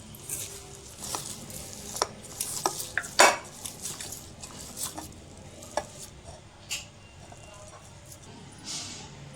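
Chicken keema mixture worked together with rice flour and breadcrumbs in a bowl, giving soft squelching, stirring and scattered clinks of a spoon against the dish, close and intermittent with a few sharper knocks.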